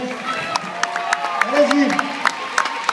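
Spectators in the stands clap for swimmers at a pool meet in Clichy-la-Garenne, scattered sharp claps over a murmuring crowd, with an announcer's voice rising in the middle.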